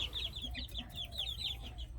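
Chickens at a breeding farm that holds parent stock and chicks chirp and cluck in a rapid, continuous stream of high peeping notes over a low background rumble, fairly close and moderately quiet.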